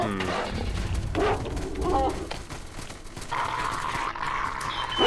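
In the video game STALKER: The Lost Alpha, mutant dogs attack with snarls and barks over scuffling and clattering game noise, steady and busy throughout, with someone talking over it.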